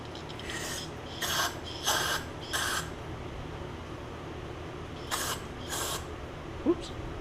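Carburetor cleaner sprays onto the carb of a John Deere X300 riding mower in quiet, close hissing bursts, several short sprays separated by pauses, with faint mechanical clicks.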